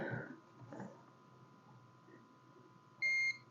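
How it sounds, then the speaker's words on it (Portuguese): A multimeter gives one short, clear continuity beep while probing for a short on a cellphone circuit board near its power-management chip. The beep comes after faint handling noise and a low steady hum. "Aqui, mais um que está bipando curto, tá vendo?"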